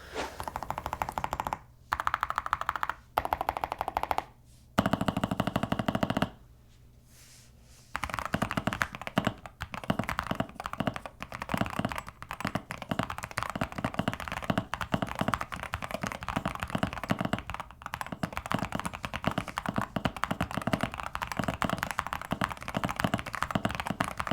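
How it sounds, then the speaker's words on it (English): Rapid, crisp clacking of a mechanical keyboard with metal keycaps, continuous typing bursts close to the microphone with a few short pauses early on. "I'll just give you guys a little keyboard ASMR because I think it sounds great as well"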